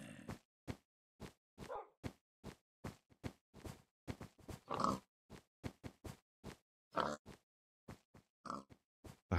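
Pigs in a video game grunting and oinking in a long run of short, quick, evenly spaced grunts, soft and close, with brief silences between them.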